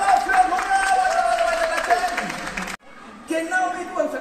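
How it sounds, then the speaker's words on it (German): An audience at a children's magic show in Germany applauds a young girl, with dense, loud clapping for a few seconds before a brief break and quieter sounds with voices. "Applaus für Antonia!"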